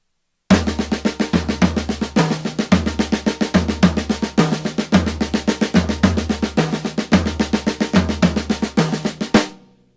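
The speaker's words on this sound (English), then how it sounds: "So you could play the flat flam and it would look like this and sound like this." Drum kit playing flat flams moved around the tom-toms in a steady, fast stream of doubled strokes with ringing low tom tones, loud and close, without talk, ending in a final decaying hit.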